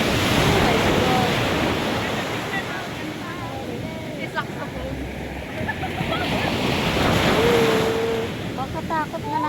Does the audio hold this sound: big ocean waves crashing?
yes